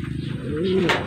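Pigeons come diving in to a racing loft, and a soft, low coo is heard close by while a voice talks over it in the moment before a short bright rustle.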